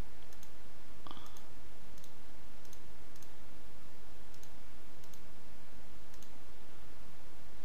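Computer mouse clicks while working in CLO3D garment software, a series of sharp, light clicks spaced roughly every half second to second, close and quiet over faint room hiss, with no talking.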